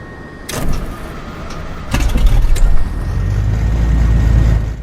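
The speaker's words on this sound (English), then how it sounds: "We'll crank the engine again and hopefully get a clean start." A Beechcraft Duke's piston engine cranking and catching in a flight simulator, with sharp clicks and a whine early on, then a rising, steady rumbling run that grows louder and continues to the end, with no voices.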